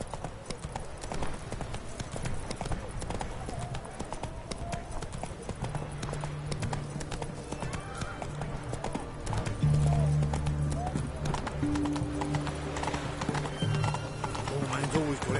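Roach, the horse in The Witcher 3, clip-clops steadily throughout with an occasional whinny, over game music and ambient sounds, while someone talks now and then.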